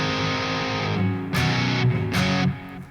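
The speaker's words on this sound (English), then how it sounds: "it sounds weird hearing distortion coming while playing an electric guitar" An electric guitar through a distortion preset on a Spark 2 amp rings out in sustained chords, fading between strums, with a buzzy, saturated tone.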